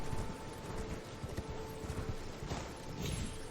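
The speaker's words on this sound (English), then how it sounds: "I bet I could jump up there on the horse" Horse hooves clopping in the video game Elden Ring, a quick, uneven run of soft thuds over a steady windy game backdrop, fairly faint and without speech.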